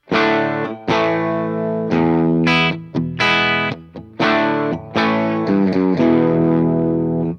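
An electric guitar plays a phrase of picked, sustained notes with brief pauses, its tone upfront and dry, loud and alone.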